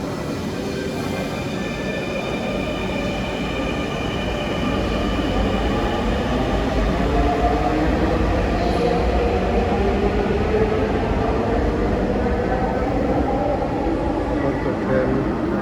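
A Dhaka metro rail train rolls into the station with a steady, loud rumble and faint wheel whine that swell slightly as it nears, while voices murmur in the background.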